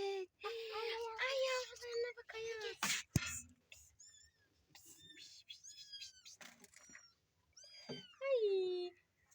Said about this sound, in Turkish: Ay burada ne güzel kedişikler var.